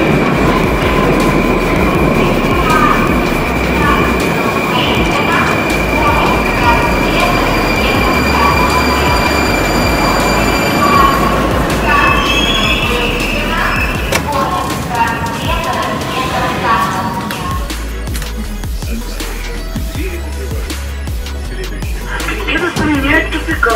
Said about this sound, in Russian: мы уже отправились со станции Котельники в сторону станции Выхино